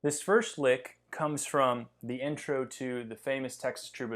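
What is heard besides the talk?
None of the usual background noises is heard.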